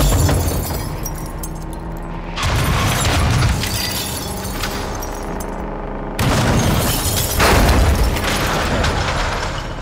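A vehicle hits a land mine in Modern Warfare 2: a loud explosion erupts with a deep roar and crackling debris, then a second blast bursts a few seconds later, both dense and close over continuous rumbling noise.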